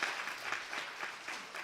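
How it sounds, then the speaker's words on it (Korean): A church congregation applauds at a Korean retirement thanksgiving service with communion, a brief burst of many people clapping in a steady, slightly pulsing rhythm with no voice on top. "다시 한번 큰 박수 부탁드립니다"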